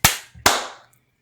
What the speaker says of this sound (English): we should probably clap at the same time